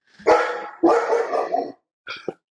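A dog visiting during a podcast recording barks three times: two long, rough barks close together, then a shorter, thinner yelp after a brief pause, all loud and close with no talk over them.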